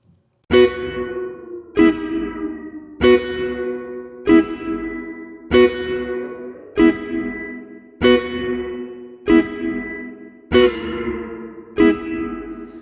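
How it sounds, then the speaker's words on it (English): A guitar chord struck about every second and a quarter, ten times, each hit trailing off in a metallic, springy reverb wash from a single-spring reverb, with no talking. "if you want the real spring reverb effect, going to 1 spring will give you the sound of that spring"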